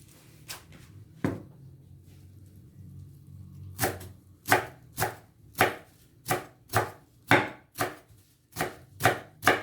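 A knife chops coriander on a cutting board, starting with a few isolated strikes and then settling into a steady, close rhythm of sharp thuds.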